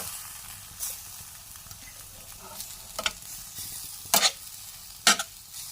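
Capsicum filling stirred and fried in a pan for a chicken wrap, with a soft steady sizzle and a few sharp scraping stirs toward the end.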